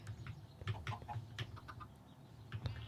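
Minecraft chickens clucking in short repeated bursts, a steady run of small calls spread across the clip at moderate, close level with no talk over them.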